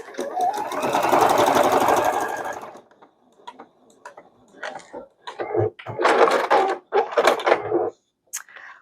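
An embroidery machine stitching a small leaf design whirs loudly in a dense, rapid burst for a few seconds, then falls to scattered clicks, taps and short mechanical stitching bursts.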